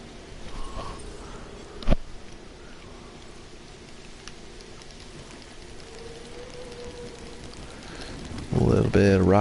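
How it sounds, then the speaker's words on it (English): Rain falls in the Jurassic World Evolution video game as a steady, soft, even hiss. A single sharp click sounds early on, and a brief voice comes in at the very end. "It's been raining."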